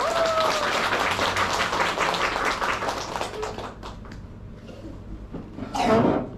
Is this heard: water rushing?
no